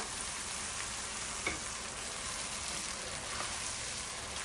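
Onion, garlic, ginger and nut paste frying in a pan for a Bangladeshi fish bhuna curry, a soft continuous sizzle and crackle with faint stirring clicks, steady and fairly quiet, no talking.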